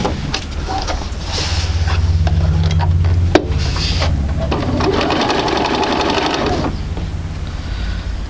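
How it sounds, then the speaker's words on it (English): A sewing machine stitches a quarter-inch fabric seam, its needle chattering in a fast steady run that speeds up and slows down, close and fairly loud with a brief clack midway. "I'm going to stitch that across at 1/4 inch."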